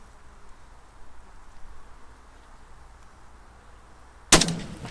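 A single 6.5 Grendel rifle shot firing a 123 grain Hornady ELD Match load at 200 yards, with a chronograph set up, cracks sharply after several seconds of quiet outdoor ambience, then decays briefly.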